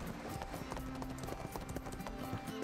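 Horse hooves clip-clopping in the online game ArcheAge, a steady rhythmic run of hoof beats under constant game music and ambience, moderately loud and close.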